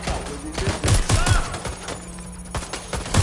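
Dense bursts of video game gunfire in Watch Dogs Legion, rapid automatic volleys and single shots layered together in a loud, continuous firefight during a suppressive fire exchange.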